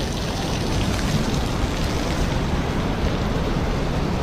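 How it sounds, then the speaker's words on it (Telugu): Heavy rain pours onto a mountain road on the route to Kedarnath, a dense, steady roar of falling water, loud and unbroken, with no voices. "పైన కొండ మీద నుంచి వర్షం రోడ్డు మీదే పడుతుంది."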